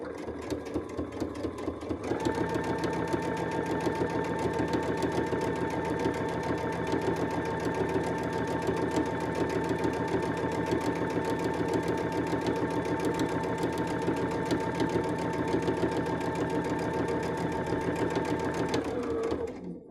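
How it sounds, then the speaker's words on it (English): Sewing machine top stitching around the edge of a summer dress, a fast, steady mechanical rattle and hum that starts after a short pause and runs evenly and close for most of the clip before stopping. "we're going to top stitch all the way around"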